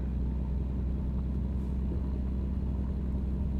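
Low, steady rumble of a heavy truck engine in American Truck Simulator, idling or cruising, constant and fairly loud with no talking.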